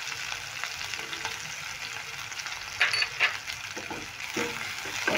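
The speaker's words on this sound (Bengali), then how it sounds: "এবার এগুলোকেও নেড়ে একটু ভেজে নেব।" Chopped green chillies and chili flakes frying in oil in a pan, a steady close sizzle broken by a few clinking, scraping stirs of a utensil.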